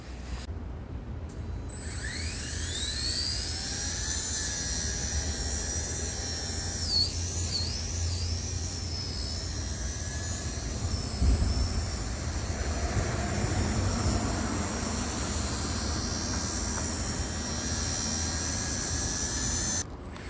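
A Blade Nano S3 brushless RC helicopter, fitted with a HH CPX BL kit, whines steadily and close at high pitch for the whole stretch, its tone sweeping up and down as the throttle changes.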